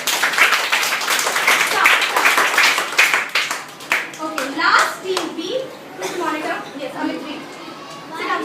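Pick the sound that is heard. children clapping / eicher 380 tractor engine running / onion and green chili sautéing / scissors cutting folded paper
children clapping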